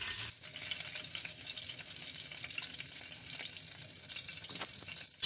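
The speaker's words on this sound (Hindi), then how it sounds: "जीरे को हम हल्का सा फ्राई कर लेंगे" Cumin seeds frying in ghee in a pan, a soft, even sizzle with faint crackle and a few light stirring touches, quiet and continuous without any talk.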